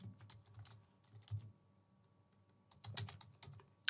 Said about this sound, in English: I'm just going to type here as a prompt, write an article on